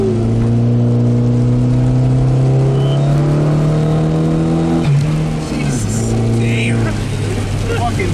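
Tuned Chrysler PT Cruiser GT with a Mopar Stage 1 tune accelerating hard, the engine note climbing steadily before a brief dip at a gear change, loud from inside the car with people talking.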